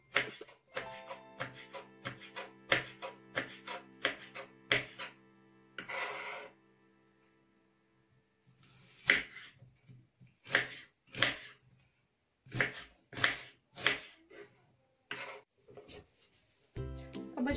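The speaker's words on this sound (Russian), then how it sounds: "Горький перчик режу мелкими кусочками." A knife taps rapidly on a cutting board, chopping hot pepper into small pieces in quick bursts, close and crisp, with a brief pause midway before the steady chopping resumes.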